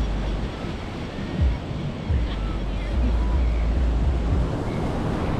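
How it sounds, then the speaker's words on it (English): Surf and gusty wind at a Sydney beach in the morning, a loud continuous wash of waves with heavy low wind rumble buffeting the microphone throughout. "So here we are at the beach again."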